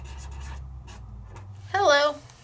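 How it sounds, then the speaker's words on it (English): A water-based dye marker is written across paper in a few short, soft scratching strokes up close, with a voice speaking over the end. "So you can write with them."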